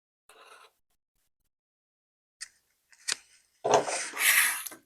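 Scissors cutting quilt fabric, trimming half an inch off a folded strip: a few short, sharp snips followed by a longer burst of crisp cutting, close and alone without talk.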